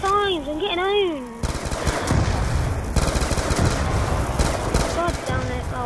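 Type 25 rifle gunfire in Black Ops 2 Zombies, rapid bursts of dense automatic shots that run almost continuously for several seconds, preceded by a short stretch of shouting.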